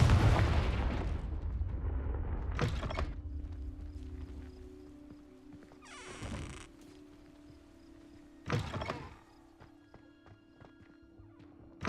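A blast spell explosion in the video game Hogwarts Legacy: a sharp burst near the start followed by a whooshing impact and a later crack, with a low magical hum lingering between them, no talk.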